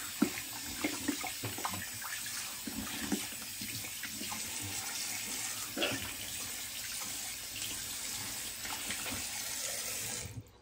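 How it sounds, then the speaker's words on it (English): Cold tap water runs steadily into a sink as a face is rinsed after a wet shave, a continuous close splashing hiss with small irregular spatters, alone and without talk. "Now rinse with cold water."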